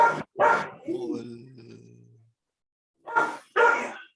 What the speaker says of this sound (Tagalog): Yung aso, hindi pa yata nananghalian.